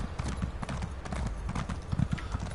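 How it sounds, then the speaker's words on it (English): Rapid hoofbeats of a horse galloping in The Elder Scrolls Online, a steady close clip-clop rhythm of many quick strikes with no voices over it. "I like jumping with the horse, especially if I'm going downhill."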